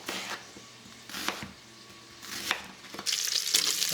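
Onions hitting a hot pan with bacon for a mushroom soup, a soft steady sizzle with a few stirring scrapes, growing brighter and louder near the end.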